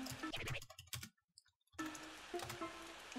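Quick clicking keystrokes on a computer keyboard during Plants vs. Zombies, a short run of taps followed by a brief pause and then more typing over game sounds.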